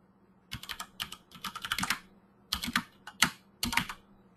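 Quick bursts of crisp key clicks on a computer keyboard, close and clear, with short pauses between runs of typing and no speech.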